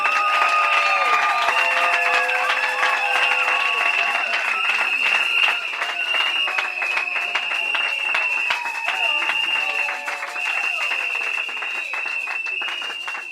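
A church congregation at the central church of Makala applauds and cheers, scattered claps rising under sustained high vocal whoops and ululating tones that carry through the whole stretch at moderate volume.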